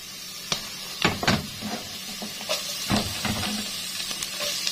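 Chopped onions hit hot oil in a pot and fry with a low sizzle, punctuated by close knocks and clatters of a spoon and cookware at irregular intervals, with no talking.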